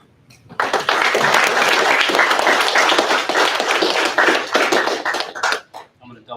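Loud, sustained applause from an audience at a military class graduation ceremony, dense clapping swelling quickly and holding steady for several seconds before tapering off.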